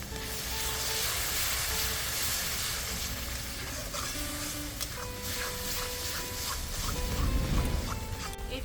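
Ground turmeric, chilli, Kashmiri chilli and coriander powders sizzle in a hot pan with a splash of water, giving a steady close hiss with light stirring and clinks.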